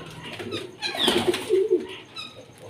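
Pigeons flapping their wings as they are released, a burst of loud clattering wingbeats in the middle with softer fluttering and faint cooing around it, no talking.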